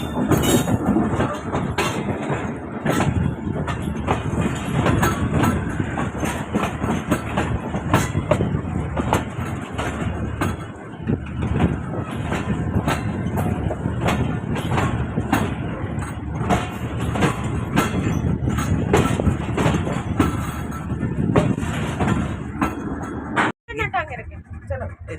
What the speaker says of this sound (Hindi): ट्रेन हमारी मुड़ रही है।